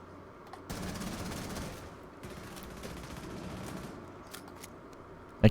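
Gunfire in Rainbow Six Siege, a sustained spray of rapid shots at moderate level with scattered sharp cracks, and a loud click at the very end, no talk.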